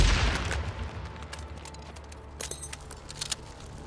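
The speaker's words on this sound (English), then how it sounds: "Pipe bomb, nice." A pipe bomb explodes during a hard-difficulty Rum Rye Gulch horde fight in Days Gone: a heavy, booming blast opens and quickly decays into a rumbling tail, followed by scattered small sharp clatters and crackles.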